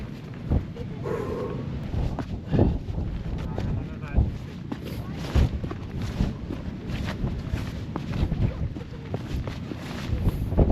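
Strong gusty wind buffets the microphone on Arthur's Seat, Edinburgh, a rough, rumbling roar with irregular thumps, constant and close, while a person talks intermittently.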